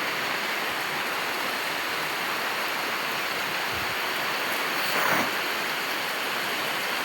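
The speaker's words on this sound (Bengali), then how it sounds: "এই যে বৃষ্টি নামতেছে এখন ভালো লাগতেছে" Rain falling at a village home on the day before Eid: a steady, even hiss of rainfall that holds constant throughout with no one speaking.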